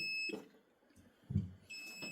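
A solar battery inverter gives two or three short electronic beeps between quiet gaps, thin and steady, with a faint low rumble beneath.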